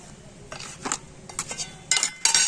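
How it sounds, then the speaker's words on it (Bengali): Powdered sugar goes into a bowl by the spoonful, with light metallic clinks and taps of spoon on bowl in a few short bursts near the microphone. "তো চিনিটা আমি এখানে তিন চামচ দিয়ে দিচ্ছি"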